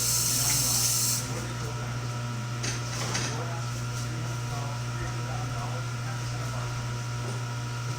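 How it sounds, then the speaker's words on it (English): Tap water runs into a sink as someone washes sticky hands indoors, a strong gush at first that settles into a quieter steady flow with faint clinks and movement, under a constant low hum. "Let me wash my hands because they're sticky."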